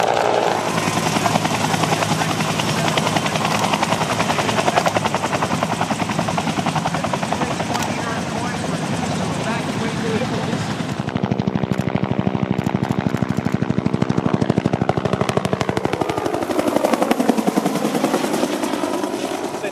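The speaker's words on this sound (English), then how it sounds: "was the Bell UH-1 Iroquois helicopter, the Huey as it was known." A Bell UH-1 Iroquois (Huey) helicopter's rotor thumps and turbine whine fill the air continuously at an air show, loud and close, with the pitch shifting as it passes.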